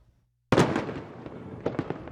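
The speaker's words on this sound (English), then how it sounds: "many cities are gearing up for their traditional fireworks displays" An Independence Day fireworks display bursts suddenly with a loud boom, then a string of sharp crackling pops and smaller bangs that fade and flare again, with no voices.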